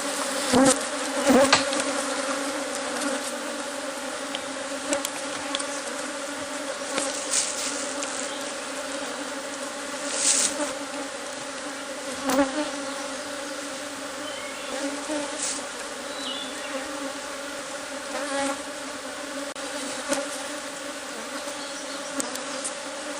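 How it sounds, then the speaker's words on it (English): Agitated honeybees from a vicious hive being requeened swarm and buzz steadily, a dense continuous drone with individual bees zipping close by now and then. "I believe you can see these bees are all over me. They just love to sting the dickens out of me. They are not happy."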